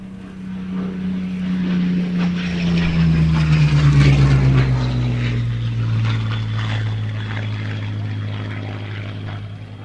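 A propeller-driven warplane that flew in the Battle of Britain drones steadily at an airshow, its engine swelling louder as it passes and then easing slightly while it moves away.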